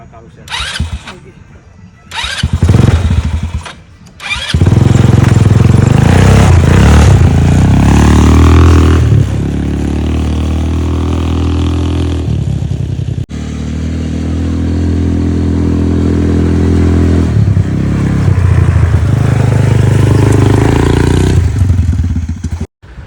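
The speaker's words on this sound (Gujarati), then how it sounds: "હવે તમને બતાવીએ છે ડર્ટ બાઇકની મજા જોઈ લો ભાઈ આપણે તો ડર્ટ બાઇક પકડી લીધી હતી" A dirt bike engine revs loudly and close by at an adventure park in Gujarat, its pitch rising and falling, with brief voices heard near the start.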